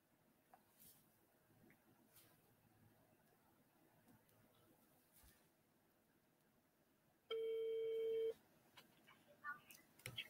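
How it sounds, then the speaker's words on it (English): A telephone call rings into a business call-in broadcast: a single loud electronic ring tone of about one second stands out over an otherwise faint, quiet studio background with light ticks. "Let me answer this call."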